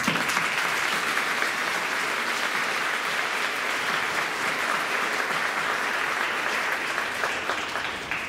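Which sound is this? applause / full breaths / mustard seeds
applause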